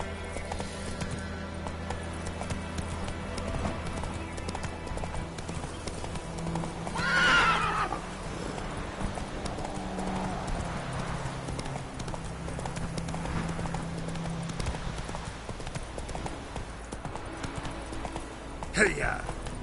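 Roach the horse galloping in The Witcher 3 video game, with steady hoofbeat clip-clop throughout and a loud neigh partway through, over background game music.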